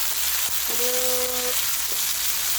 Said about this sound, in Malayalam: പച്ചമുളക് ഇട്ടിട്ട് നല്ല മൂത്ത് വരണം